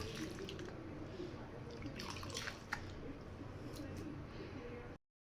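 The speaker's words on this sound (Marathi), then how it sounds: "याला धुवून 2-3 पाण्यात धुतलं मी." Cooked green peas for a kachori stuffing are rinsed in water. Close splashing and trickling run steadily for about five seconds, with small drips, and then stop abruptly.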